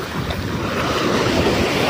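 Sea waves wash steadily onto a sandy beach, a loud, continuous roar of surf mixed with wind buffeting the microphone, with no voices present.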